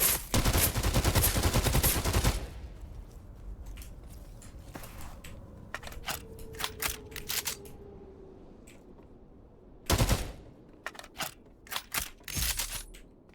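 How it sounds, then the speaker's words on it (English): A gunfight opens with a loud, dense burst of rapid gunfire, followed by scattered sharp single shots and short volleys that come and go, with another heavy burst near the end. "And that was a gunfight, I guess."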